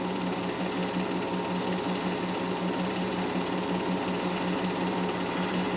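A field of modified sports racing cars, Porsches, Maseratis and Listers among them, roars together at the start of a feature race, a dense, steady, loud engine drone with a buzzing mechanical texture throughout.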